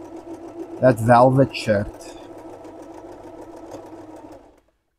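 A sewing machine stitching buttonholes on a black safari shirt hums steadily at low level for several seconds. A person speaks briefly over the start of the run before it cuts off.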